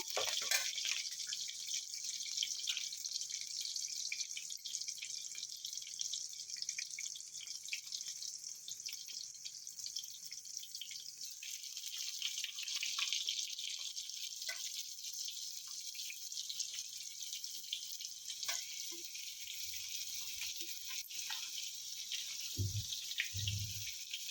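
Stuffed ridge gourds fry in a pan of curry with a soft, continuous sizzling hiss, faint and steady throughout, with a few dull clunks near the end.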